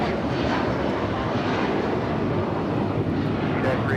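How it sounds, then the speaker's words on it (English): A United Airlines Boeing 757-300 taking off at Los Angeles International Airport, heard as a constant, loud, broad jet roar that holds steady throughout from a distance. "United Airlines 2113 taking off to Chicago on the 757-300."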